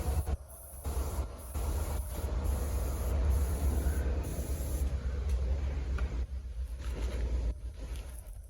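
Airbrush spraying nitrocellulose lacquer onto a hand-carved Jazzmaster guitar neck, a steady close hiss of compressed air and spray running nearly continuously with brief breaks and a low rumble underneath.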